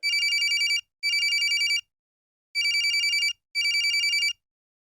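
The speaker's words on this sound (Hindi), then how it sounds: "कंप्यूटर महाशय, फोन लगाया जाए।" A telephone rings in two pairs of electronic trilling bursts with short gaps between, loud and close, with no other sound around it.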